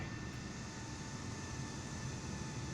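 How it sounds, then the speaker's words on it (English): A FlyByWire Airbus A320neo taxiing in Microsoft Flight Simulator produces a steady, droning jet-engine hum with a high whining tone, constant and unbroken. "It's no longer locked to my plane, so I can actually watch myself taxi by."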